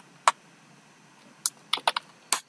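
Keys on a computer keyboard are tapped in a few sharp, separate clicks, one early and then a quick cluster of strokes, close and clear over a quiet background.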